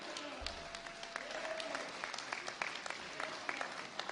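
An audience at a public safety bill signing breaks into steady applause, a continuous patter of many hands clapping at moderate loudness with no one speaking over it.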